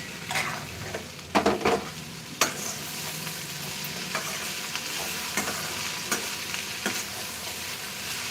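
Okra curry fries and sizzles in a pan while a spoon stirs it, a steady crackling hiss with occasional scraping knocks and clatters of the utensil against the pan.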